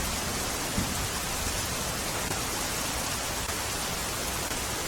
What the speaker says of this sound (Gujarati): સુરતમાં પણ ધોધમાર વરસાદ વરસી રહ્યો છે